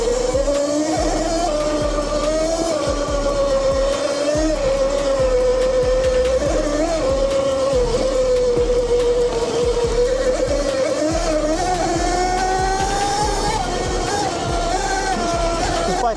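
A Yozma IN10 Pro 60V electric dirt bike motor runs with a loud sustained whine that rises and falls in pitch, steady and close, with wind rush and no clear speech.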